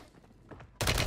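Sniper gunfire in Warzone 3 arrives as a sudden loud crack near the end of a short quiet stretch, a single sharp shot that rings on briefly.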